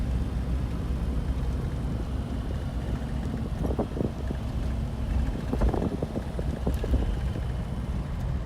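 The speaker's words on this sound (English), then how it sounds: "So you can get a sense for how the engine sounds." A 1989 Toyota Land Cruiser FJ62 driving on a test drive, a low steady engine and road rumble with wind buffeting and occasional thumps, continuous with no talk.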